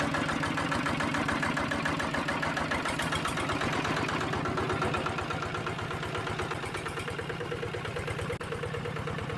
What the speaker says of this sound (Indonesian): proses pengolahan lahan sawah menggunakan traktor diesel.